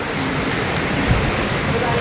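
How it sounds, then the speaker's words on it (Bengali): Steady, continuous rain with wind in a village setting, a dense hiss that fills the whole stretch evenly with no pauses, close and fairly loud, with no speech over it. "সারাক্ষণ এক টানা বৃষ্টি হইতেই আছে, হইতেই আছে"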